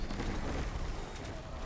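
Dense gunfire in an online shooter video game, with sniper fire amid a constant wash of battle noise and no clear separate shots.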